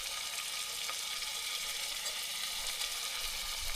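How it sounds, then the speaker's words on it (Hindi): Steady, close sizzling of potato and cauliflower being tempered in hot oil, a continuous crackling hiss with no talking. "प्रभु जी सब्जी को तड़का लगाते हुए।"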